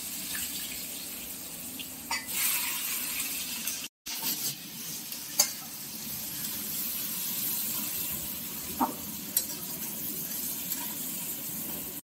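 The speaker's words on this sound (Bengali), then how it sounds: "পরে মাংসের জন্য পেঁয়াজটা আমরা ভেজে দিচ্ছি।" Onions frying in oil in a home kitchen for chicken curry, a soft continuous sizzle with occasional clinks and scrapes of a utensil and one brief break, fairly quiet and with no talk.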